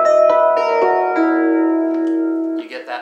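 Bell-like harp harmonics on electric guitar ring out as a chord, several plucked chiming notes sustaining together, played alone and fairly loud.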